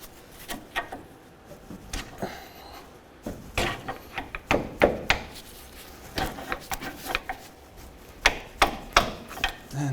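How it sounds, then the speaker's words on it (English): Sharp metallic hammer taps striking a ball joint to drive it out of the steering knuckle on a 2007-2013 Mitsubishi Outlander's front lower control arm, irregular clusters of close knocks with scraping between. "sometimes a few taps with a hammer will help"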